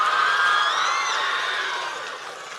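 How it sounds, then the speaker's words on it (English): A school spring concert audience of seventh and eighth grade families cheering and whooping for the accompanist, high bright voices in a sustained crowd roar that slowly fades, with little distinct clapping. "Everybody please give her a round of applause."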